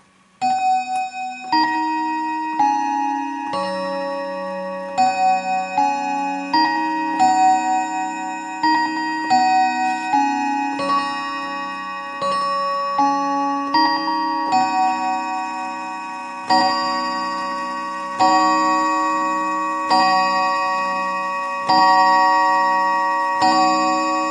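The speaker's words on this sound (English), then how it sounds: "Now you should see the 6 chimes, and it will go through the first." Art Deco Enfield Westminster chime mantel clock sounding the hour at six o'clock, a sequence of clear ringing chime notes in repeated melodic phrases with long overlapping decays, close and steady, no talk.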